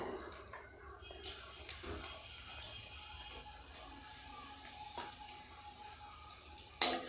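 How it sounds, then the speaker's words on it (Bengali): Dried chilli pieces sizzle in hot mustard oil in a pan, a faint, steady hiss broken by light crackles and a few sharp pops. "আমাদের তেল গরম হয়ে গেছে, এর উপরে আমরা দিয়ে দিচ্ছি শুকনো লঙ্কা কুচিগুলো।"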